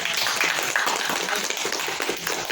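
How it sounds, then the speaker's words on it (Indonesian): Dense, steady clapping from a classroom of people applauding a group, continuous and fairly close throughout, with no voices standing out. "Tepuk tangan untuk kelompok."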